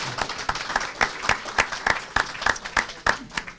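An audience at an economics conference applauds, a short burst of rhythmic, fairly close clapping with distinct, evenly spaced claps over a murmur of hands.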